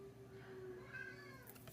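A cat lets out a short, drawn-out meow, fairly faint against a quiet room with a low steady hum.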